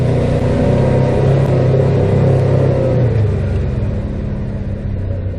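A side-by-side UTV running in four-wheel drive low range on a mountain trail, its engine a loud, steady close rumble that holds level with a slight dip near the end.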